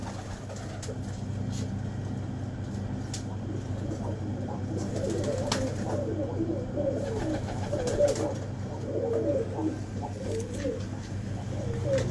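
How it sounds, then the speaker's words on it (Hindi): Pigeons coo again and again, a soft, throaty rolling sound at moderate distance over a low constant hum, with faint clicks and rustles in the background. "ये कबूतर"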